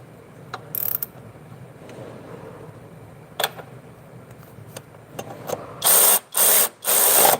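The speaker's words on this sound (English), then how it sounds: "That's that El Natural torque wrench there, fellas." A torque wrench is worked on a car transmission job in a garage, with scattered faint clicks, then three loud, sustained ratcheting bursts near the end, close and without talking.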